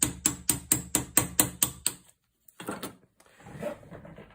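Sharp tapping of a small stick driving a cotter pin out of a flintlock doglock during repair, about eight quick evenly spaced knocks close up, followed by a pause and a few softer clatters and handling noises.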